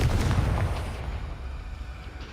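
Confringo spell blast in Hogwarts Legacy, a loud fiery burst at the start that rumbles and fades away over a couple of seconds.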